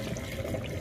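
Water drains in a kitchen sink while a salad is being prepared: a brief, steady rushing gurgle, close and continuous, with no talking over it.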